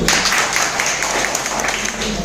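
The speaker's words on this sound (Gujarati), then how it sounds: "ખરેખર એમના માટે તાળી થઈ જાય." Dense, steady audience applause from a seminar crowd at a hotel event hall, many hands clapping together at an even level throughout with no pauses.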